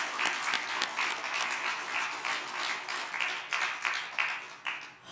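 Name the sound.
congregation applauding in church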